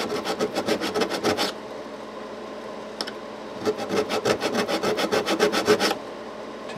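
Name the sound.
sanding guitar frets with 300 grit abrasive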